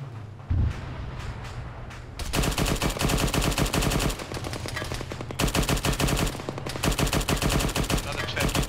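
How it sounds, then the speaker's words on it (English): Gunfire crackles through an airsoft milsim game near a small town, starting with a few scattered pops and then breaking into long dense bursts of rapid shots that stay loud and close and carry on almost without pause. "Sounds like shots southeast, lads, in that small town."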